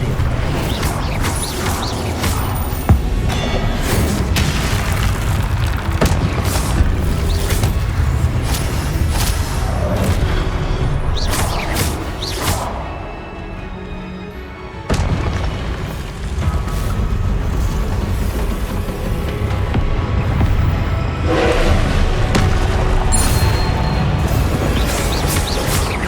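Incendio fire spells in Hogwarts Legacy roar through a long, loud stretch of creaking, booming game mechanisms and repeated crashing bursts, dipping briefly midway before surging again, with no talk.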